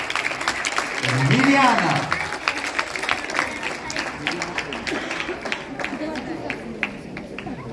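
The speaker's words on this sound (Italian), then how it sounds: "Grande applauso" An audience at a Latin solo dance competition breaks into scattered clapping and crowd noise, loud at first and then thinning to sparser claps, while a voice speaks over it.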